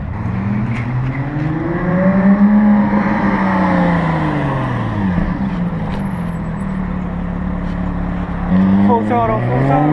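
A car engine at a car meet, revving loudly at full throttle, with its pitch sweeping up and down repeatedly over a steady roar, close by. Voices can be heard over it.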